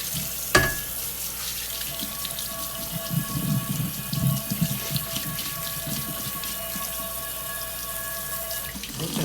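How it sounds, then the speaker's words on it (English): Hot water from a kitchen sink sprayer rinsing a cast iron pan, a steady hissing spray with splashing and a sharp clunk near the start, close and continuous. "I've got my sprayer, and I got my water on hot, so I can break as much loose as possible"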